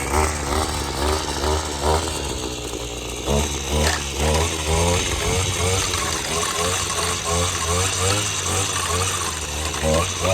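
A Redmax HEZ 3060 small two-stroke engine runs close and loud with a buzzing, pulsing drone that rises and falls, while someone talks over it.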